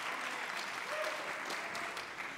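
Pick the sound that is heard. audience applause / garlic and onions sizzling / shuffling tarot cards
audience applause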